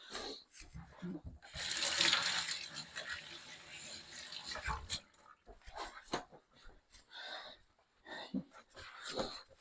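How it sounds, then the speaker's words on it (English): Running tap water splashes over hands rinsing off sourdough starter in a home kitchen, a broad steady wash that swells early and then breaks into irregular splashes and drips. "rinse my hands off"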